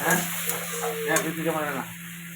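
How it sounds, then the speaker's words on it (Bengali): Water spinach sautéing in a pan crackles and sizzles steadily, with stirring scrapes; the frying noise fades toward the end. "একটু কমিয়ে কমিয়ে করতে থাকি, সাতলাতে থাকি"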